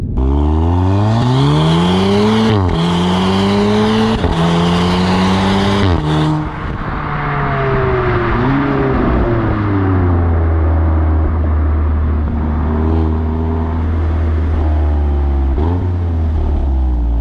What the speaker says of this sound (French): on va vous mettre au niveau de l'échappement. On va vous faire entendre un petit peu